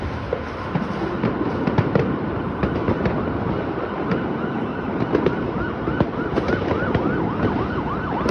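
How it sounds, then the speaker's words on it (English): Dense, rapid crackling of firecrackers popping continuously, with a wailing siren rising and falling in the background. "that sounds like firecrackers"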